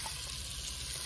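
Meat browning in a little oil in a cast iron pot, a close, steady crackling sizzle without pause.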